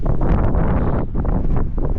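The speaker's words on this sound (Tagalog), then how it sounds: "napakalakas ang hangin" Strong mountain wind in Mountain Province, Philippines buffets the microphone in a loud, rumbling roar with gusts that rise and dip briefly.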